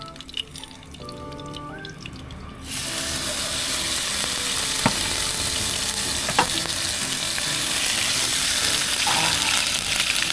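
Ordinary market beef is dropped into a hot pan and bursts into a loud, steady sizzle after a quieter opening of clinks. The frying continues evenly to the end, with a few sharp utensil taps.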